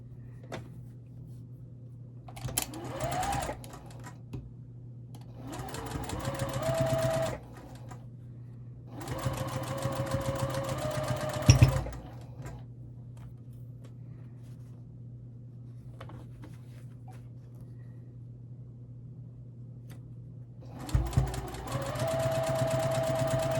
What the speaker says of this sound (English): I'm now going to just sew a 1/4 inch seam down there.